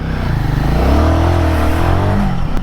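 A Royal Enfield Guerrilla 450, with its 450cc liquid-cooled single-cylinder engine, accelerates hard up close. The exhaust note is loud and throaty and climbs in pitch as the revs rise through a gear, with no talking over it.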